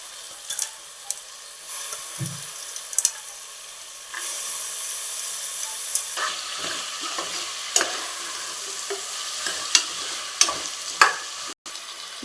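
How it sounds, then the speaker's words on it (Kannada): Vegetables and peas frying for a home-style vegetable pulao, stirred in the pan with a steady close sizzle and scattered scraping clicks from the spoon, no voices. "ಇವಾಗ ತರಕಾರಿ ಹಾಕ್ತಾಯಿದ್ದೀವಿ. ಇದನ್ನು ಒಂದು 5 ಮಿನಿಟ್ಸ್ ಫ್ರೈ ಮಾಡಿ."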